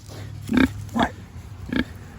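Pigs on pasture, one a good-sized female and one a small runt, give three short, low grunts spaced about half a second apart, fairly close with no talk over them.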